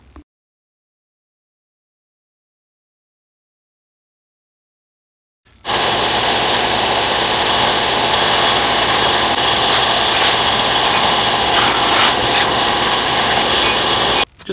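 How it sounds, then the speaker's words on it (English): A bandsaw cuts curved outlines in wood for a pizza peel, a steady, loud, rasping whine that starts abruptly after several seconds of silence and runs unbroken until it stops. "Now we can go ahead and cut it on the bandsaw."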